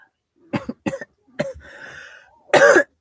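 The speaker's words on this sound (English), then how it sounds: "And cough." A few sharp coughs in quick succession, then a short throat-clearing rumble and a final loud, forceful cough, close by.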